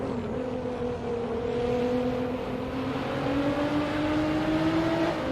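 GTR race cars lapping Monza in a racing video game, driven by artificial intelligence, make a continuous engine drone whose pitch climbs slowly as they accelerate, with no voices.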